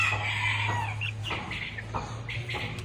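Chickens at the Qoraqamish bird market in Uzbekistan cluck and call in short bursts over a steady low hum and busy background noise, moderately close, with no talk.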